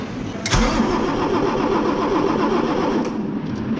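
A Volvo truck diesel engine, just repaired, cranks and fires into a rising roar, then settles to a loud, close, steady idle; no one speaks.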